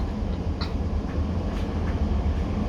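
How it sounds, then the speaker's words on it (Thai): A train departs in Stockholm, Sweden, giving a loud, steady low rumble with faint rattles and clicks throughout, heard from on board with no other sounds on top. "รถไฟออกเด้อรถไฟนะออกแล้ว"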